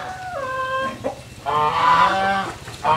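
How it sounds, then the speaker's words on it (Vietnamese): Several geese honk loudly and close by on a rural Vietnamese farm, a run of harmonic honks followed by a brief pause and then a longer, louder burst of overlapping calls. "Kìa, đằng kia có mấy con ngỗng nữa."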